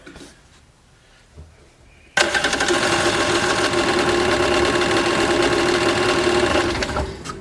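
Small engine of a 1995 Yamaha WaveRunner jet ski running with the choke closed: quiet rustling, then an abrupt start into a loud, rapid, steady buzzing chatter that carries on to the end.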